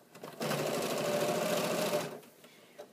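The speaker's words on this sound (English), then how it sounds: "I'm going to stitch with 1/4 inch seam" A sewing machine fitted with a walking foot stitches a quarter inch seam through thick quilted layers, a steady close mechanical whir that runs for about a second and a half and then stops, with no talk over it.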